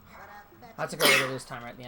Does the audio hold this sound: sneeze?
yes